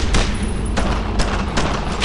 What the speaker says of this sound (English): amongst the infantry with rifles and machine guns suppressing each other